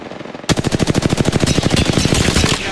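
Video game gunfire: a loud, rapid automatic burst of evenly spaced shots starting abruptly after a brief quiet moment and continuing unbroken to the end, with no voices.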